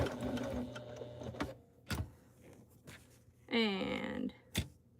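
A sewing machine stitches a tote bag strap, running in short whirring bursts separated by pauses and a few sharp clicks, with one higher-pitched stretch near the end.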